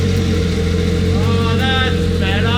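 Nissan R32 drift car engine idling after a rebuild, having been misfiring on six cylinders, a steady close rumble throughout with people talking over it.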